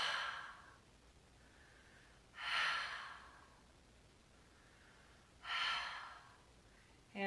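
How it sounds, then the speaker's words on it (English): Slow, audible exhales through the mouth, breathy whooshes spaced about three seconds apart, soft and close in a quiet room. "hands around your mouth, 3 audible exhales"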